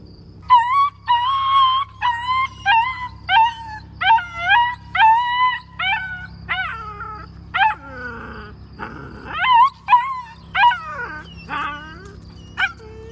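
An upset Kangal mother dog whines and whimpers in repeated high, wavering cries, close and loud, with rising and falling howl-like moans between pauses.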